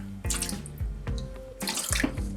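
Water pours into a cooking pot holding venison ribs, a near, splashing gush that comes in several uneven bursts with short breaks between them, with no talk over it.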